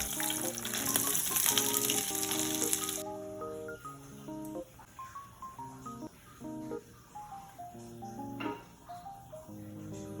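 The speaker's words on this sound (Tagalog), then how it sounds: "Ang sunod ko naman nga pong lulutuin ay itong chicken pops." Chicken pops fry in a pan with a loud sizzling hiss at first, then quieter crackle and spatter beneath background music.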